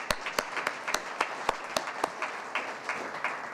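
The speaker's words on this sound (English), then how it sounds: "Another round of applause for." Applause from an audience at a Silicon Valley science innovation forum, steady and moderately loud, with sharper individual claps standing out in a fairly regular pattern throughout.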